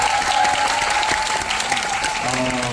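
Audience clapping fills a screening hall to welcome an actor at a film Q&A, a sustained wash of applause that carries on steadily, with a faint voice and tonal sound emerging near the end.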